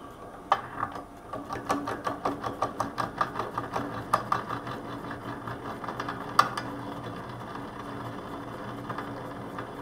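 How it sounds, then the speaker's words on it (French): A drill bores a series of holes in steel for a homemade sheet-metal bending brake, producing a quiet mechanical whir with a regular ticking, chattering pulse that builds and then settles into a steady run. "je vais entamer ma série de perçages"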